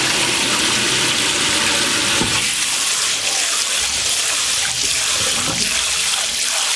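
Rice being rinsed in water in a cooking pot under a running tap, a loud continuous rush of water with sloshing and swirling, a few splashy stirs standing out, no talking.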